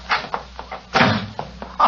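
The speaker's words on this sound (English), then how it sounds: "She slammed the door in my face" A door slams shut in a radio drama as a sound effect, one sharp loud thud in the middle, with a few softer knocks and clatters before and after.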